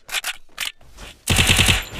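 Rapid gunfire in the video game Free Fire: a few separated sharp shots, then a tight, loud burst of automatic fire, close and alone.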